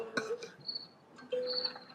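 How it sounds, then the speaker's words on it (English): A soundboard plays a cricket chirping effect, with two bursts of high, thin chirps separated by a short gap, clear and close with little else around them. "Oh, cricket?"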